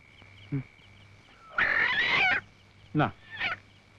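A chicken clucks and squawks in short bursts, with one long, loud, agitated cackle in the middle, close by against a quiet background.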